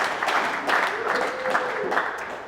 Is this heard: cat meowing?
no